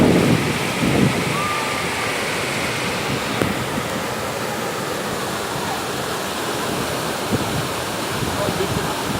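Corococho waterfall in Piabetá, Rio de Janeiro, a continuous broad roar of falling water, loud and steady from start to finish with a little wind buffeting the microphone.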